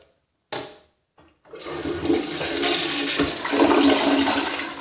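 A Glacier Bay toilet flushes after a couple of brief clicks of the handle, then water rushes loudly and steadily close by and swirls down without fading.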